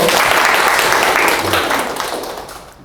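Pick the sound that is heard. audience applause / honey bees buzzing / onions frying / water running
audience applause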